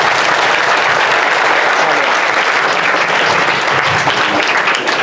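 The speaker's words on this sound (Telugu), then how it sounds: "ఒకసారి సీనన్నకి అందరు క్లాప్స్ కొట్టండి." A crowd at a junior college Ganesh Nimarjanam celebration applauds for Seenanna, with dense, loud, sustained clapping throughout.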